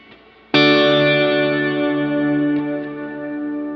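A single electric guitar chord rings out through a Kurzweil KSP8 Dreamverb reverb preset, struck once and left to sustain with a long, lush, slowly fading tail, loud and alone.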